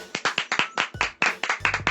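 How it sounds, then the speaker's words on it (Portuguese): Applause sound effect of a small group clapping, a close, dry burst of uneven claps running steadily throughout. "Aplausos. Aplausos."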